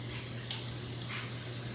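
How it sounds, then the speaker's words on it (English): Tap water runs steadily while fresh parsley is rinsed in a home kitchen, a constant close, even gush with no talking over it. "I'm gonna wash the parsley"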